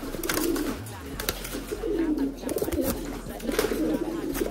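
Pigeons coo in a cage, soft low repeated burbling calls in short phrases, close by, with a person talking nearby.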